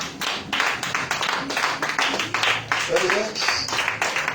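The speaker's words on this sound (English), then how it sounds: "Give God a special happy Father's Day clap" A church congregation gives a Father's Day round of applause for God, with steady, dense clapping throughout and a voice speaking over it.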